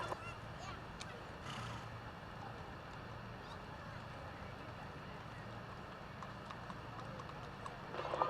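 Horse hooves clip-clop along the street in a Knights of Columbus parade in Teutopolis, Illinois, following behind a truck, heard amid crowd murmur and outdoor background noise.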